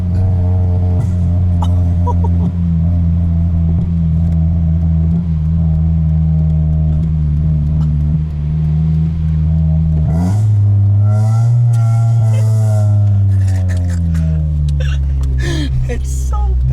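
A 2003 Honda Civic EX coupe with a manual gearbox and aftermarket exhaust drones loudly at steady revs, then dips and climbs again after a slow shift into second, with brief voice sounds mixed in.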